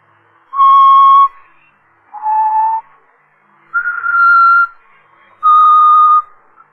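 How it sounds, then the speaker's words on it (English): A person whistles four sustained, clear notes at slightly different pitches, separated by short pauses, close and loud with no other sound. "He's always whistling it."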